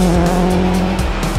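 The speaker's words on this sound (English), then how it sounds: "The second Subaru to hit the stages is Travis Pastrana and co-driver Rhiannon Gelsomino." Subaru rally car on a gravel or tarmac stage with tires skidding and squealing, engine roaring loud and close throughout, brief sharp skid bursts over the continuous engine drone.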